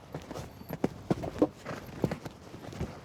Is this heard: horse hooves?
yes